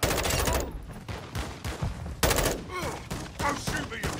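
Rapid bursts of gunfire in the multiplayer video game Modern Warfare II, loud and dense shots in quick succession, mixed with a player's voice talking over the action.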